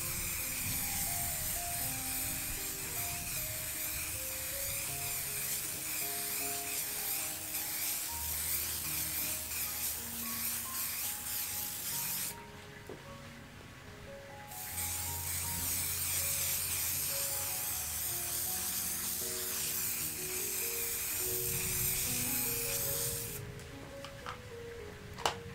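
Spray varnish hisses from a can onto a piece of abstract fluid pour artwork in long, soft bursts with a short pause partway through, faint beneath background music.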